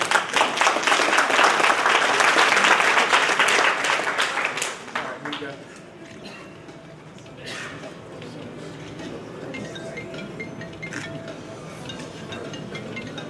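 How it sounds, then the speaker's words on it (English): Community holiday gathering crowd breaks into loud, dense applause for several seconds, then it tapers off and a speaker talks over the quieter room. "Let's give them another round of applause."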